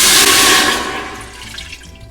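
Broth pours into an Instant Pot in a loud, splashing stream that tapers off quickly into a softer trickle.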